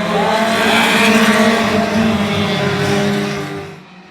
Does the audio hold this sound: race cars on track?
yes